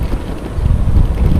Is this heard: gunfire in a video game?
no